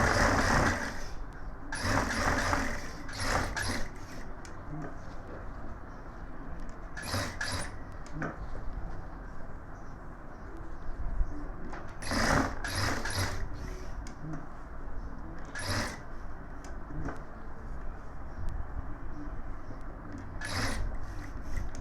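A sewing machine double-stitching a gents suit, running in short bursts of a few seconds each with rattling mechanical clatter between quieter pauses, fairly close and alone.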